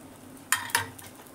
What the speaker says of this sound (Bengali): তো এটাকে আমি 2 মিনিটের জন্য ছেড়ে দেবো গ্যাসে সেকার জন্য। আর উপর থেকে আমি তেল দিয়ে দেবো।